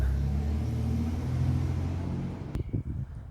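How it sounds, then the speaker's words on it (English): A Chevrolet C5 Corvette's engine idles with a steady low rumble that drops away near the end, followed by a few faint knocks. "I like to turn the car back on, let it run for a few more minutes"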